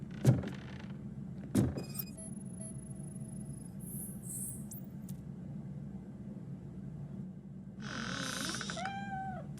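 A cat in the Robocop: Rogue City video game lets out a few short meows, with a longer wavering cry near the end, all over a low, steady ambient rumble.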